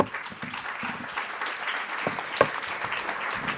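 Conference audience applauding in a hall, a steady wash of many hands clapping that holds throughout at moderate loudness, with one sharper clap standing out partway through.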